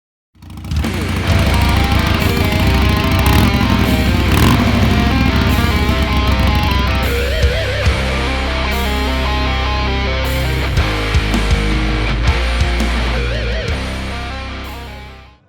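A 2018 Harley-Davidson Sport Glide rumbles on a test ride, its engine running loudly and continuously close by, the pitch shifting as it revs and settles, with wind noise throughout.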